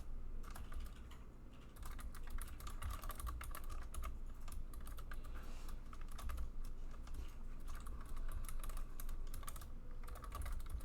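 Steady, rapid typing on a computer keyboard while entering code, continuous close key clicks of even loudness, with no voice over it.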